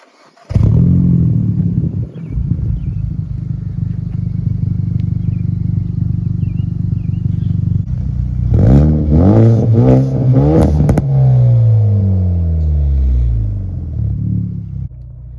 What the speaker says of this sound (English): third thing I love about this vehicle is going to be the pops on the factory tune